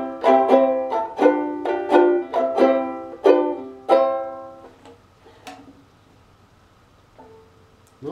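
A bright, plucked homemade ukulele plays a quick run of notes that rings out and fades, followed by a few sparse, softer plucks.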